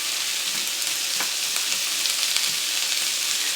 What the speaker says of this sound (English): our oil is starting to bubble a little, so I'm gonna go ahead and add our onions and our peppers